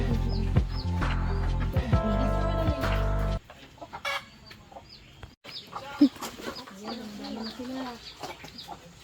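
Farm chickens cluck and call while being fed, with a loud harmonic squawk early on, then scattered clucks and softer bird calls amid quieter background noise.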